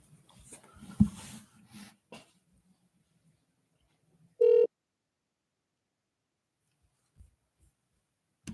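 A telephone ring tone on a real estate cold call sounds once as a short electronic burst, set amid near-silence with a few faint clicks and rustles before and after.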